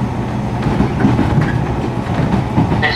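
A JR Kansai Main Line KiHa 120 diesel railcar rumbles steadily along the rails, with a continuous low roar, faint rhythmic clatter and a brief higher squeal near the end.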